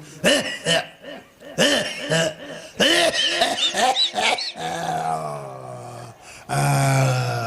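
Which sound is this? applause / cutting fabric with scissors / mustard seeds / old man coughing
old man coughing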